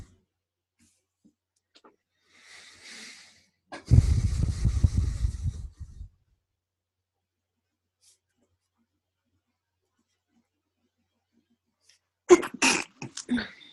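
A single short sneeze-like burst, close and breathy, followed by silence and then brief talking.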